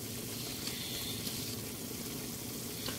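Pork strips frying in their own rendered fat in a pan, a soft steady crackling sizzle, faint and continuous without any voices.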